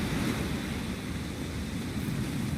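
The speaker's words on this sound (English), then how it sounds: "The waves." Ocean waves wash steadily against the rocky Storm Coast in Dragon Age: Inquisition, a continuous loud surf roar with broad hiss and no voices.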